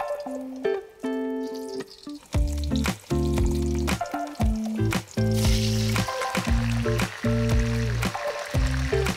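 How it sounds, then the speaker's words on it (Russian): Pieces of lamb sizzle loudly in hot vegetable oil, a dense close frying crackle broken by repeated rhythmic tonal clanks of a utensil against the pan, with no talk. "И в разогретом быстро подрумянить мясо."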